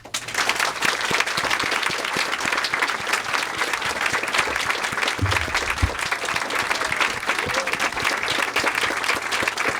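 Audience applause greeting chess champion Garry Kasparov at a speaking event: steady, dense clapping from a large crowd that fills the whole stretch at an even loudness.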